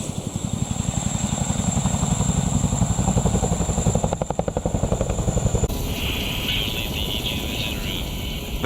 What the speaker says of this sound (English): Because the Chinook is an extremely large aircraft, it requires a crew of 4.